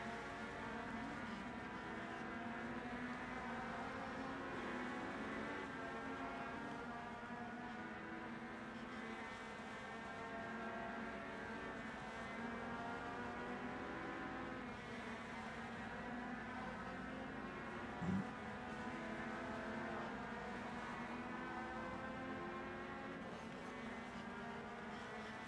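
Racing video game cars drone steadily with layered engine tones throughout, a continuous mid-level roar that holds without breaks or clear gear changes.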